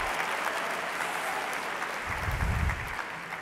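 Audience applause during a conference session, a full, continuous round of clapping from a seated crowd, loud and even, with a brief low thump partway through.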